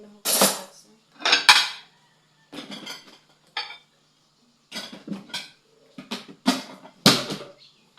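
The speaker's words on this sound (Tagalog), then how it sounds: "Isang araw hugasan natin itong gaya ng plato." Plates, dishes and cutlery clink and clatter in short separate bursts during a home dishwashing chore, fairly close, with quiet gaps between the knocks and no voices.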